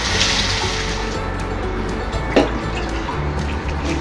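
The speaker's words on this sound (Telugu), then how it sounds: "దీన్ని కొంచెం వాటర్ వేసి మనము కలుపుకోవాలి" Water poured into gram flour batter and stirred for boondi laddu, a steady wet sloshing and trickling with a brief louder splash midway, close and continuous with no talking.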